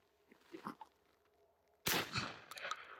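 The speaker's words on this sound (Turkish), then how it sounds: "Son atış." A single loud, sharp blast from a Retay Air Control Extreme 12 gauge shotgun, with a broadband decaying report, preceded by faint handling noises and a quiet outdoor background.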